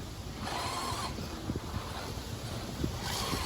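Strong wind gusting across an outdoor arena during a track-style event, steady roaring microphone buffeting with scattered faint knocks and clatters beneath it.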